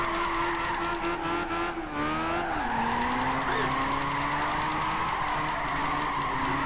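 Toyota AE86 drifting in Gran Turismo 5, a steady loud engine drone with shifting pitch and long continuous tire squeal as the car slides, with no voices.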